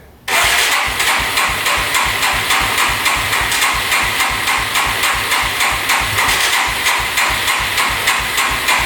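A $500 street-legal dirt bike with a dying battery cranks continuously with its choke on, a loud, close, rapid mechanical whirring churn that starts abruptly and never catches.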